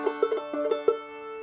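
A clawhammer banjo lick played without double thumbing gives about seven quick plucked notes in an uneven, bouncy rhythm, ringing close and clear before a short fade, with no voices.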